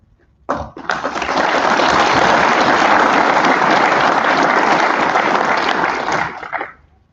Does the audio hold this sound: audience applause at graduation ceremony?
yes